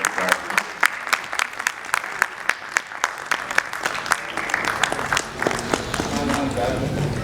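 An audience at a tribute event in Karachi applauds. Crisp, spaced hand claps rise into a fuller patter of clapping, with voices murmuring underneath.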